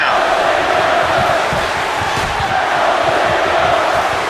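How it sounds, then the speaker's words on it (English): A wrestling crowd at a Point Blank event roars in a dense, sustained wall of cheering and shouting, loud and unbroken throughout. "And listen to this crowd."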